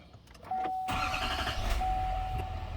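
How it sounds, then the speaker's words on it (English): A truck engine cranks briefly, catches with a loud roar and settles into a steady, rumbling idle close by, a thin whine running underneath. "now we should be able to re-crank the truck up"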